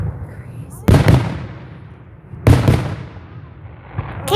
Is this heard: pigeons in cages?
no